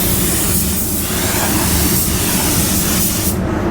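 Spray gun hissing steadily and close while painting the inside of car doors, a continuous broadband spray that cuts off abruptly near the end.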